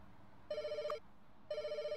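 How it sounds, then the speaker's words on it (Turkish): A telephone rings in the Pets Hotel video game, two electronic ring bursts about half a second each, separated by a short pause, clear against a faint quiet background. "Telefon beni rahat bırakmıyor ki."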